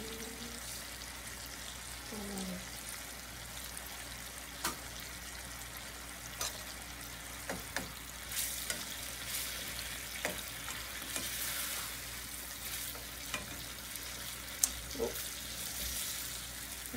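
Salmon fries with garlic and ginger as lemon juice goes in, leaving a quiet, continuous sizzle broken by scattered faint clicks and taps of stirring.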